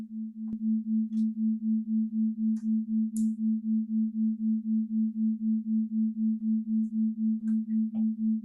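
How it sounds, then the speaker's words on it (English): A steady sustained tone opens a meditative fire-element ceremony, humming continuously and evenly with a gentle regular pulse throughout, joined by a few faint scattered clicks and soft rustles, with no talking. "You can hear the tones beginning."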